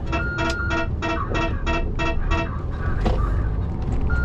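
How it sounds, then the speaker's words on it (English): A truck's warning beeper sounds while turning left in a steady series of about eight short, regular tones, over a constant engine rumble from inside the cab. "every time I turn left this truck beeps like crap"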